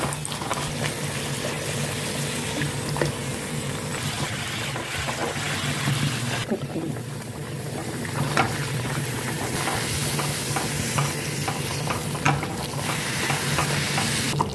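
Puris deep frying in hot oil over a high flame, a steady loud sizzle and bubbling hiss with occasional soft stirring clatter, continuous throughout.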